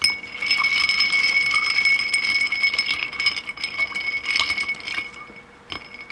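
A Campari cocktail being stirred in a glass gives a steady run of bright clinks and chimes, close and fairly loud, continuing for several seconds with a short lull near the end.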